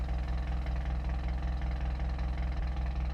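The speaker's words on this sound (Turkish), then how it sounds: "Oo motorun sesi değişti bak" A Honda car engine in the video game BeamNG.drive idles steadily with a low, even rumble and rhythmic pulsing, close and continuous with no voices.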